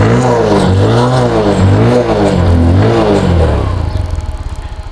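A second-hand motorcycle engine revs up close and loud, its pitch rising and falling in repeated swells before settling to a lower, choppier idle at the end.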